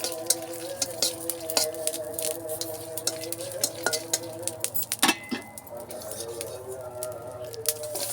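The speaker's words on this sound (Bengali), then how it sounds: "শুকনো লঙ্কা ভেজে নিচ্ছি, তার সাথে দিয়ে দিচ্ছি কাঁচা লঙ্কা" Dried and green chillies fry and get stirred in a pan on a clay stove, with irregular clinks and scraping taps over a crackling sizzle, birds chirping in the background.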